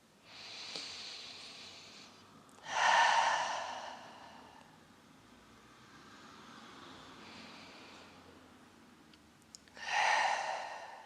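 Slow deep breaths during a yoga session, two long audible exhales with softer inhales between, close and quiet with no talk.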